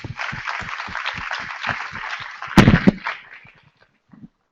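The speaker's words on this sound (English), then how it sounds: "Let's give him a round of applause." An audience claps in a steady, rhythmic beat to welcome a Waze co-founder at a teleconference event. A loud thump breaks in partway through, then the clapping tapers off into near silence.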